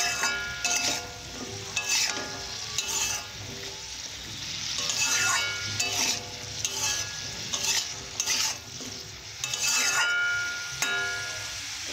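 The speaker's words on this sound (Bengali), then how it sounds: "এইভাবে ভালো করে কষে নেব।" Bottle gourd with turmeric being stir-fried and pressed in a pan, giving a steady close-up sizzle broken by repeated rhythmic scrapes and stirs, with no talking.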